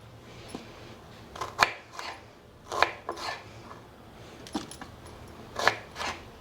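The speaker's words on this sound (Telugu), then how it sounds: "మూడు కిలోలు వంకాయ ముక్కలన్నీ కోసేసామండి" Several sharp knife chops through firm white brinjal on a board at an irregular pace, close and crisp over a quiet background.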